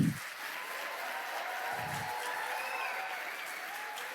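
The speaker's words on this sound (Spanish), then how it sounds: "Le damos un aplauso a Jesús." A church congregation at a Spanish-language service applauds steadily, a dense sustained wash of clapping that fills the room at an even level from start to finish.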